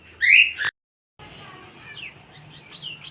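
Fancy pigeons feeding on grain give a loud, sharp chirping call, then a short silence followed by softer scattered calls and rustling nearby.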